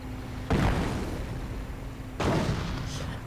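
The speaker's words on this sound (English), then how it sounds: "Anti-tank gun keeps firing." Anti-tank gun firing in a World War II real-time strategy game, two loud booming shots about two seconds apart, each with a rumbling tail over a steady background of battle noise.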